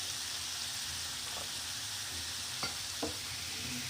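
Small potatoes sautéing in a pan for a carrot and pea curry, a faint, steady hiss of frying oil with a couple of soft utensil taps, quiet and without speech.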